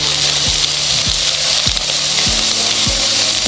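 Onions with ginger and garlic fry in a pan with a loud, close, steady sizzle, broken by a few rhythmic scraping strokes of stirring, with no talk.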